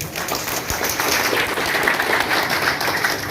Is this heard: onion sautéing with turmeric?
no